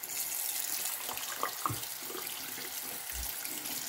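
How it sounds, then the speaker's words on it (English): Lukewarm water running steadily from a tap to wet a shaving brush, a soft continuous hiss with a few light splashes and clunks nearby. "First thing that I do is just turn on some lukewarm water."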